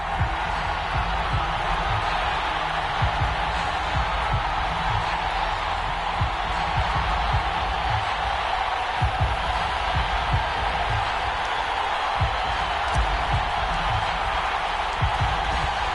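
An American football video game's stadium crowd roars and cheers in a steady, dense wash of noise for the whole stretch, loud and unbroken, with faint claps and whoops mixed in.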